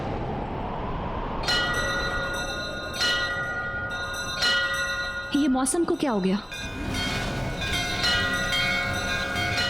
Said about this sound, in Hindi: ये ऊपर वाले मंदिर की घंटी की आवाज है, शायद हवा से बज रही होगी